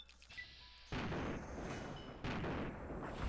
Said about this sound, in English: That guy shot a grenade right at my feet.